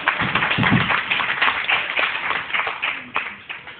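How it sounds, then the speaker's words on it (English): A church congregation at a Sunday service claps hands in praise, a loud, dense burst of clapping that fades slightly over a few seconds, with some voices mixed underneath. "Come on and give God a hand clap of praise."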